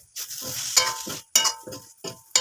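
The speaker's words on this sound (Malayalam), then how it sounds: "തക്കാളി ഒന്ന് വഴറ്റി കൊടുക്കാം." Tomatoes sautéing in a hot pan for Kerala-style chicken curry, sizzling bursts in a stop-start rhythm as the spoon stirs and scrapes, close and fairly loud.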